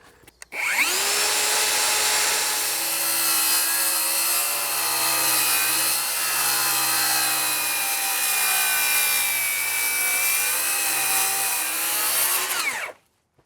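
Power saw blade cuts through a composite decking board set just over an inch deep, one continuous loud whining cut lasting about twelve seconds with a steady pitch, then spinning down to silence.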